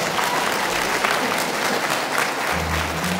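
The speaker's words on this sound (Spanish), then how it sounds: "Aplausos para ellos," An audience applauds newly presented local authorities at a ceremony, a loud, dense, continuous roar of clapping that holds steady throughout, with a low hum entering near the end.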